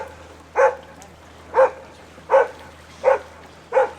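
A dog near Lake Como barks five times in a slow, evenly spaced series, each bark sharp and fairly close over a low, steady outdoor hum.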